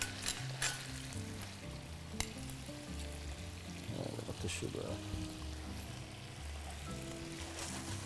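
Lobster fries in a pan with a steady, close sizzle and crackle that runs throughout, while faint background music plays underneath.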